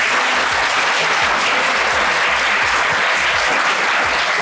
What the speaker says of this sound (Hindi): गुलफाम के लिए दोबारा तालियां बजाओ